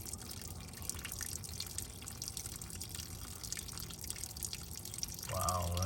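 Water drains from the engine of a 1951 Case VAC tractor in a steady trickling, dripping stream, close by, ending with a brief voice.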